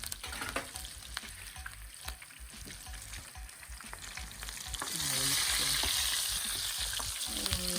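Fish fries in an oil-filled pan seasoned with plenty of pepper, alongside onion, producing a dense close sizzle with frequent stirring clicks and scrapes, then swelling into a louder, brighter hiss halfway through.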